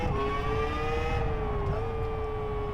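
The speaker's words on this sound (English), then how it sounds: "a rather familiar engine sound, albeit turned up a notch in terms of revs" A high-revving Formula 1 style racing car engine in the video game Live for Speed whines steadily at a near-constant pitch, dipping briefly before holding its loud, sustained drone.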